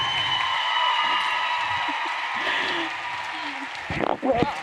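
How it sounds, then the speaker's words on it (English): An audience at a live Juice Plus+ event gives a round of applause that fades under a presenter's voice, then a few whoops near the end. "Big round of applause for John and guest."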